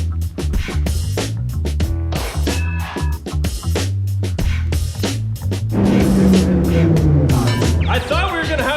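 A Jeep Wrangler JK engine revs hard on a dyno in a shop with big airflow fans, a loud sustained roar climbing in pitch toward the end, with people talking over it.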